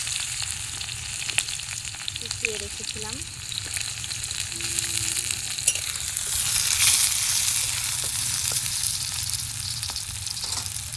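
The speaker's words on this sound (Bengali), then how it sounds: "ভাজা তেলটার মধ্যে আরেকটু তেল দিয়ে দিয়েছি গরম হয়ে গেছে দিয়ে দিলাম পেঁয়াজ" Chopped onion fries in hot oil in a village-style outdoor kitchen on the Jamuna riverbank: a continuous close sizzle that swells slightly midway, and a voice speaks briefly over it.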